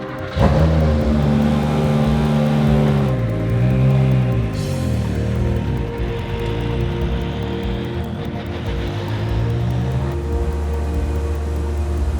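A Ferrari 488 GT3 Evo race car engine runs loud and close, its pitch rising and dipping through short revs before holding a steady, throbbing idle.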